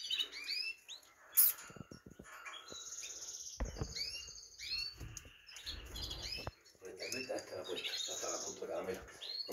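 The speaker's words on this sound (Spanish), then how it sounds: "Otro pajarito muy bonito, muy blanco." Small white birds in a breeding aviary chirp continuously, many overlapping tweets and calls at close range, with scattered rustling and tapping throughout.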